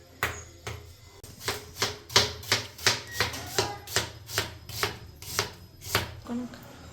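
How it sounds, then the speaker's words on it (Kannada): Onions being finely cut with a knife on a board for a mutton curry masala: a brisk series of about fifteen sharp, evenly spaced chops, close and clear, no talk. "ಉಳ್ಳಾಗಡ್ಡಿ ಕಟ್ ಮಾಡೋಣ ಈಗ"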